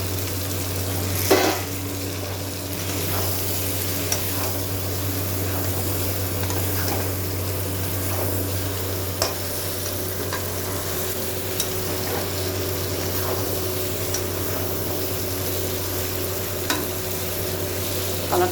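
Potatoes frying in a pan of chicken curry and being stirred, giving a steady close sizzle with scraping stirs and occasional utensil knocks against the pan, with no talk.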